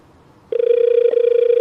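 A telephone rings with a steady electronic trill, a single loud continuous ring that starts abruptly and cuts off, close and alone without talk.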